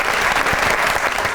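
A television studio audience on a comedy variety show claps steadily for an arriving guest, a dense and fairly loud burst of applause with no voices.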